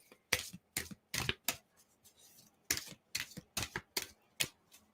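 Tarot cards shuffled by hand in quick crisp bursts of riffling and slapping, close and fairly quiet, with short pauses between rounds and no talking.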